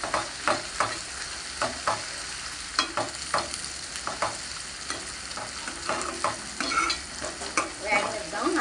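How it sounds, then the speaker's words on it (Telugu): Ginger garlic paste fries in a pan for a prawn curry, sizzling steadily while a spoon stirs and scrapes it in repeated close, sharp strokes. No voices are heard. "అల్లం వెల్లుల్లిపాయలు వేస్తాం కదా, కొంచెం వేగనిద్దాం."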